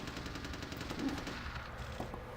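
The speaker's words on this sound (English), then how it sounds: "There's a shitload of gunfire going on outside" Rapid bursts of distant gunfire in Vampire: The Masquerade – Bloodlines crackle continuously outside, automatic weapons rattling in fast rhythmic volleys with no pauses.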